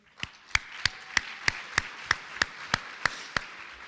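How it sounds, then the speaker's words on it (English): Ten sharp, evenly spaced claps ring out close by at a steady quick pace during a high school varsity athletic awards ceremony, with no voices over them. "So just a round of applause for everybody"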